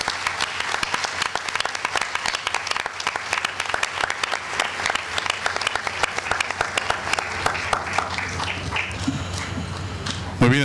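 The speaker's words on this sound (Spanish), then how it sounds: "Y fuertes aplausos, por favor," Strong, sustained applause from an audience at an International Women's Day awards ceremony, dense and loud clapping filling the room with voices mixed in, easing slightly near the end.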